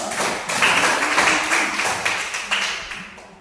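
Brief round of clapping in a classroom for a student group during a teacher-training lesson, a few seconds of moderately quiet, uneven hand claps from a small group.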